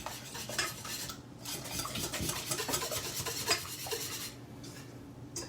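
A utensil clinks and scrapes briskly against a bowl while Finnish pancake batter with salt is mixed, a steady close rhythm of stirring and rasping with no talking.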